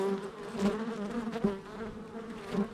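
Honeybees buzz steadily around an open hive during winter varroa treatment, a close, continuous hum with wavering pitch and a few louder swells as bees pass near.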